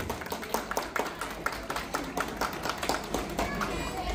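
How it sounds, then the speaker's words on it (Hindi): Office-party colleagues clapping for a winner of a cup-picking game, a group applauding in a quick, uneven patter of claps that lasts the whole stretch. "जोरदार तालियां बजाएं श्रेया जी के लिए."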